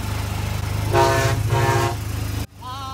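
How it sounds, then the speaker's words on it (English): A Disneyland monorail train rolls past with a steady low rumble and a humming tone that swells in the middle, then drops away sharply near the end. "Monorail!"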